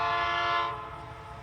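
A CSX train horn on an EMD-led locomotive at Folkston, Georgia, gives one short, bright, chord-like honk that cuts off after about half a second, leaving a low background rumble.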